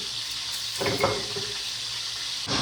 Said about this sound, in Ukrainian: далі я додаю води